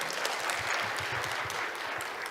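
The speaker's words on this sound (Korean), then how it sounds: "박수 한번 보내주세요." A church audience at a family-life lecture in Iksan applauds: dense, even clapping that holds at a moderate level for the whole stretch, with no voices over it.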